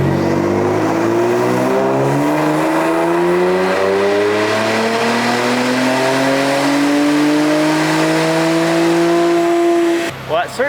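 A tuned 2016 Infiniti Q50 with a VR30 engine roars through a long, steady full-throttle pull, its pitch rising continuously for about ten seconds before cutting off abruptly, loud and close.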